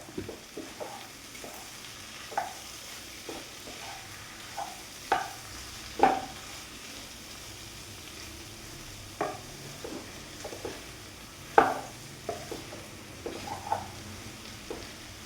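A capsicum thoran stir-fry sizzles quietly in a pan while a spoon stirs it, making sharp, scattered scraping knocks at irregular intervals over the low, steady frying hiss.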